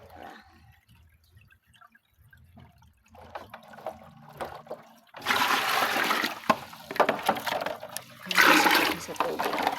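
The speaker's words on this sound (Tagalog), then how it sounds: "Salod ko sa tubig rin" Water pouring into a container at home, starting as faint drips and trickles and then becoming a loud steady rushing splash, with a person talking over it.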